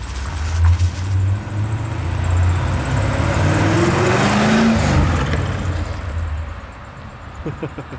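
A C5 Corvette V8, a drift build, rumbles at close range, then the engine rises in a swelling rev before easing back toward idle, with faint voices at the end.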